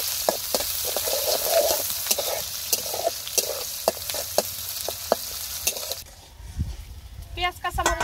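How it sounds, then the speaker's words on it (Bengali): Chopped onion and green chilies fry in oil with a busy sizzle under repeated stirring taps and scrapes. The frying cuts out near the end, and a voice follows. "পেঁয়াজ কাঁচামরিচ ভালোভাবে ভেজে নিয়েছি,"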